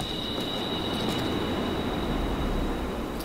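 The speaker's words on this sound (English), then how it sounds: "Does that sound like a subway train?" A subway train rumbles in the video game The Cave, a steady low roar with a faint high whine, unbroken and without talk.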